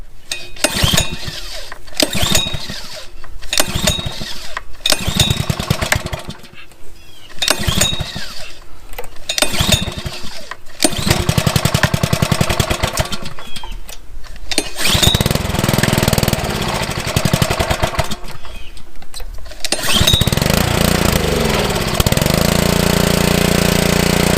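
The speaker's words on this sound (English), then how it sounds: "as you saw in that clip right there, the engine runs" A repaired pressure washer engine, salvaged from the curbside, cranks in several rhythmic pull-start bursts, then catches and runs steadily and loudly nearby.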